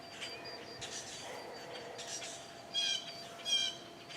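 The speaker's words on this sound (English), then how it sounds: "Lots of birds going on right now. We got mockingbirds and all kinds of stuff." Mockingbirds and other birds sing in a flower garden, with scattered high chirps and calls over a soft outdoor background and two louder bursts of song near the end, no voices.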